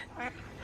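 Ducks quacking in a park, a brief burst of a single quack in the middle against soft outdoor background noise.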